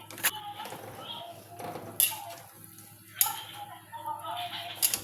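A spoon clinks and scrapes against a pot while a dish is stirred until it dissolves, giving a few sharp metallic knocks spaced across a quiet kitchen background.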